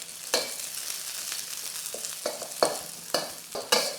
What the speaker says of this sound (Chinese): 先来炒香这个葱